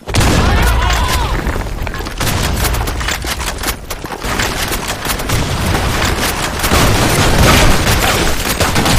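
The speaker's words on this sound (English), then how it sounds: "Grenade! Fire in the hole!" A video game firefight with a grenade explosion and gunfire: rapid, overlapping bursts of shots and booms crackle continuously and loudly, with brief dips between volleys.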